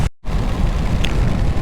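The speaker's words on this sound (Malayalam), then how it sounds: "ഇങ്ങോട്ട് നല്ല മഴയാട്ടോ. നല്ല അമ്മാതിരി മഴ." Heavy rain on a motorcycle ride through Munnar on a KTM Duke 200 or TVS Apache RTR 200, a dense, loud roar of rain and wind rushing past the rider, broken by a brief dropout near the start.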